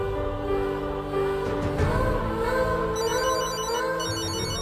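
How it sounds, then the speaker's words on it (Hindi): A telephone rings steadily over a busy background of music and ambient sound, the ring's rapid warbling tones repeating through the second half. "लगता है वृंदा का फोन है।"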